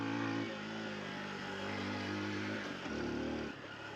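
A Honda XR150L motorcycle climbing a steep off-road hill in first gear, its engine held at steady high revs with a brief surge near the end, close and loud with no talk.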